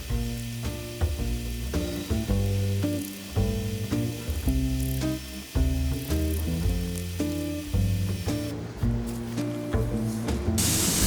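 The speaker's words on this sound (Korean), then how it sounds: "스프레이 작업할 때 주의점은" Spray gun misting dye onto a leather Ferragamo wallet, a steady airy hiss under louder background music, with a stronger burst of spray near the end.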